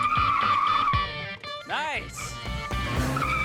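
A car rams the sides of another car at 25 mph in a science test, with engine noise and sharp tire skidding squeals rising and falling, and a voice speaking briefly over it.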